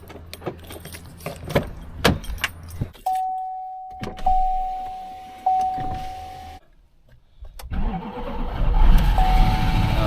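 Keys jangle in a wrecked Duramax diesel pickup, followed by a steady electric whine. The truck's engine then cranks and catches near the end, rising into a rough, close rumble. No one speaks.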